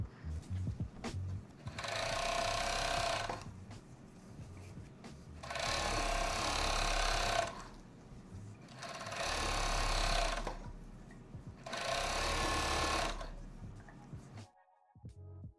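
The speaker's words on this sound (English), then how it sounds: "I'm just gonna go ahead and also serge the hem" A serger overlocks the hems of elastic pant legs in four long, steady bursts of rapid stitching, each lasting a couple of seconds with brief pauses between, close and loud with no talking.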